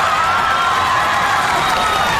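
Studio audience of the Jerry Springer talk show cheering and whooping without pause, a dense, loud crowd roar filling the room.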